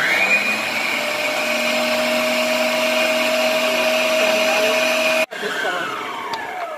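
An electric mixer beats four egg whites to stiff peaks for homemade vanilla ice cream, a loud, steady whirring drone heard up close that shifts and dips briefly near the end.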